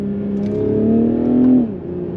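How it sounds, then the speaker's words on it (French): A BMW Z4 M40i with 340 hp and rear-wheel drive, in sport mode, holds a steady engine drone heard from inside the cabin, then revs up briefly and eases off toward the end. "La sonorité en mode sport qui est assez présente dans l'habitacle"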